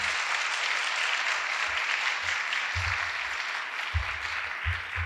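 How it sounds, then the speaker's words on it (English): A ceremony audience gives volunteer Rita a round of applause, a dense, even clapping that carries steadily from start to finish with scattered low bumps beneath. "Rita, I think you need another round of applause."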